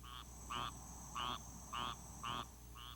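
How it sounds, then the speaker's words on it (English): Frogs and toads croak at night in South Florida, a chorus of repeated calls in regular bursts about every half second, loud and close over a steady background hum. "It's frogs and toads"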